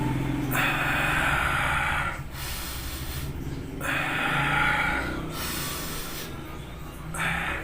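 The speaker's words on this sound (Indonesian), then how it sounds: "menarik nafas sedalam-dalamnya dari hidung dan mengeluarkannya dari mulut dengan perlahan" Slow, deliberate breathing, a long deep inhale drawn in through the nose, then a slow exhale out through the mouth, repeated in rhythm, close and loud with a steady airy rush and no talking.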